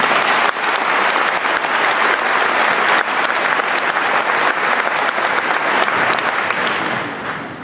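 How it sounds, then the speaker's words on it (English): Large crowd applauding at the New Albany High School Class of 2019 graduation ceremony, a loud, continuous, dense roar of clapping that holds steady throughout before easing slightly at the end. "If you could give them a round of applause."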